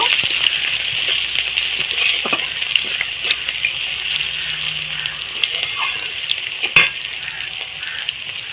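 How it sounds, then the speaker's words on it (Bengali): Chopped onions frying in a pan for a spicy potato and onion fritter dish, a steady close hiss of sizzling oil with occasional scrapes and one sharp clatter, no voices. "কেটে রাখা পেঁয়াজ দিয়ে দিলাম দিয়ে পেঁয়াজটাকে আমি লাল লাল করে একটু ভেজে নেব"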